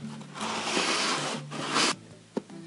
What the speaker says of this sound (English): The weight of the sanding block should be enough as you're sliding it to smooth it out